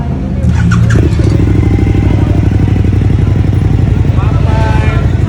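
Suzuki V-Strom 1050XT motorcycle fitted with a slip-on exhaust, idling with a steady, solid low rumble and occasional light blips, close and loud, with people talking in the background.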